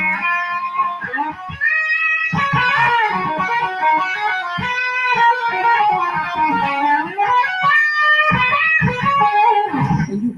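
A Gibson Byrdland electric guitar is played through heavy distortion, a loud, sustained, buzzing lead line with bent and held notes, brief gaps between phrases and no talking.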